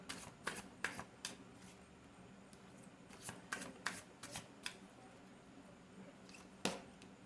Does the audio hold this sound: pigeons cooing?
no